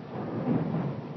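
Thunder from a nearby lightning strike rumbles low and heavy for about a second, a single close boom with no voices.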